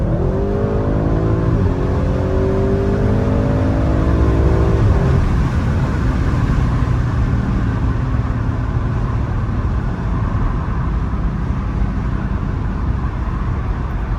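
An Audi RS6 accelerating at full throttle on a road, climbing from about 100 to 110 km/h, with a loud, rising engine note over the first few seconds that gives way to a steady roar of engine and road noise.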